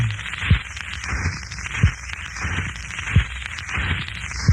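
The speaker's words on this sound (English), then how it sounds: "That's the sound of an old 45 scratching." Crackling, hissing vinyl noise with a soft thump repeating about every 1.3 seconds as the needle rides the run-out groove of an old 45 rpm record.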